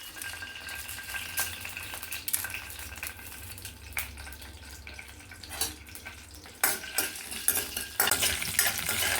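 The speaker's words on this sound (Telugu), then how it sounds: "అవి దోరగా వేయించే వరకు అవ్వాలా" Chana dal frying in oil for a bottle gourd curry, with a soft steady sizzle under intermittent scraping and clinking of a spoon against the pan, quiet overall and growing louder toward the end.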